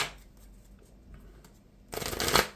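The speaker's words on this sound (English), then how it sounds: "I have to shuffle my deck" A deck of Marvel Champions cards is shuffled by hand at a tabletop game: faint handling rustles, then a short, crisp riffle burst close by near the end.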